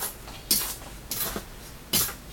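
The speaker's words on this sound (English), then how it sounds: "I'm giving it a bit of a dry mix" Shino glaze powder being dry-mixed, heard as three brief scraping, rustling bursts spaced about half a second to a second apart, close and fairly quiet over a soft background hiss.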